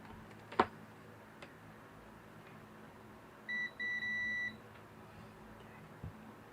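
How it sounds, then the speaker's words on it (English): A multimeter set to continuity on the wiring of a Kohler Command CH18S engine in a John Deere 317 garden tractor gives a steady high electronic beep, split into two short tones about a second long, after faint clicks and with nobody talking. "You guys probably just listen to the beep."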